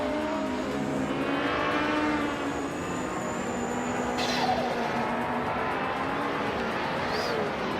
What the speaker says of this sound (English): Gishinx is driving a Ferrari 512 BBLM from 1978